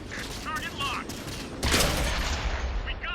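Tank cannon firing in World of Tanks, a sharp loud blast partway through followed by a ringing, rumbling tail, with engine noise and mechanical chirps before it.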